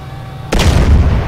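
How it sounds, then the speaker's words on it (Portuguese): A loud explosion in Grand Theft Auto with a ragdoll bullet physics mod and boosted explosion strength: quiet game ambience, then a sudden heavy boom that rolls on as a sustained low rumble. "Porque eu aumentei um pouco a potência aqui das animações de explosões."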